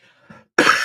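A single sharp, close cough from a person with a returning cough bursts out loudly after a short, faint breath.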